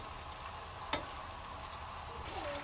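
Onion mixture browns in a pan for Lebanese shish barak with a steady low sizzle, while a yogurt sauce is stirred nearby, with one sharp clink of a utensil partway through.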